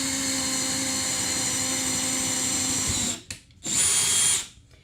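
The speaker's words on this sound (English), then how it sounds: "let me make some noise and get these drilled" Power drill boring through plywood with a board underneath, a loud steady high whine running for about three seconds, a brief stop, then a second short burst before winding down, close up.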